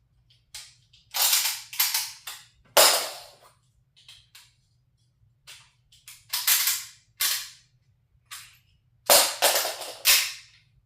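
Rapid reloading of a Kel-Tec PR57 pistol using stripper clips, heard as a string of sharp metallic clacks and rattling bursts in irregular clusters, close and loud, with short quiet gaps between and no talking.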